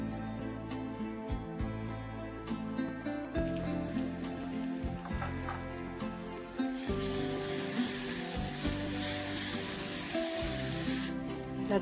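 Ground paste added to browned onions frying in a pan, with continuous close sizzling that swells into a louder, hissing burst partway through, mixed with clattering and light stirring noises.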